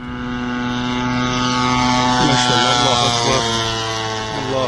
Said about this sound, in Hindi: इनको ड्रोन दे कौन रहा है जो ये ड्रोन ऐसे उड़ा रहे हैं?